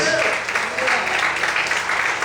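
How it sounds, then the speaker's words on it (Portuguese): A church congregation applauds during a Sunday morning service, a brief, loud, continuous wash of clapping with voices mixed in. "Como você pode aplaudir e exaltar ao Senhor nessa manhã?"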